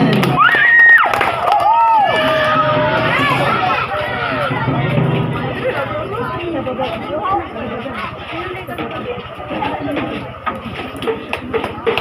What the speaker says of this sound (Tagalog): Palakpak naman dyan!